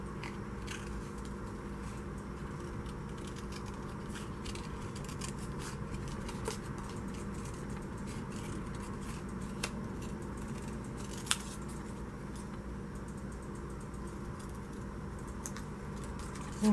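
Scissors snip paper around a cut-out picture in quick, light, irregular clicks and crunches, close and fairly quiet over a steady room hum, continuing for about seventeen seconds with no talking.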